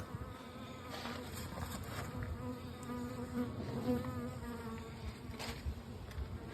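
Bees buzz faintly but steadily close by, a continuous insect drone with no voices.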